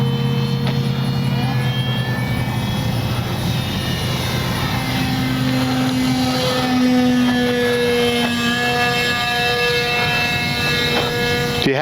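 A Skynetic Dragonfly RC plane in flight gives a steady, continuous electric motor whine and hum with shifting tonal pitch, heard at moderate distance without pause throughout.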